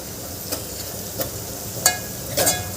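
A masala of spices fries in oil with a constant close sizzle, and a spoon stirs it in a few scraping strokes that add louder clinks toward the end.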